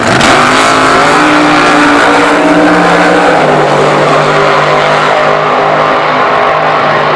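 Drag racing cars at a 2015 EDRS drag racing event in Norway, accelerating hard: a loud, continuous engine roar that dominates throughout and eases slightly toward the end.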